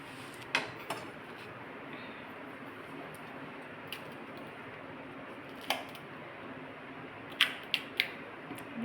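Okra (bhindi) being chopped with a knife on a board, sparse sharp clicks and taps at uneven intervals over a quiet background hiss, close by.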